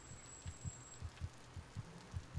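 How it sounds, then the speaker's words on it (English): A rhythmic heartbeat in the horror video game Among the Sleep thumps faintly and steadily, paired low beats repeating about every half second over quiet background noise. "I think I hear a heartbeat."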